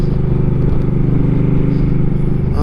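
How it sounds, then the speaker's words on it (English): A Harley-Davidson mid-size motorcycle with floorboards under way, its engine droning in a steady, loud low rumble with light road clatter, recorded close from the rider's position. "it's obviously a mid-size motorcycle."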